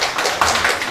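An audience claps for a guest lecturer after a special lecture on election law at a provincial council academy, a short burst of dense, close applause lasting about a second.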